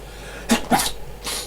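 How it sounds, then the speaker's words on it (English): A single loud, close sneeze with a sharp intake and burst, followed by a brief breathy exhale. "oh, I'm going to sneeze."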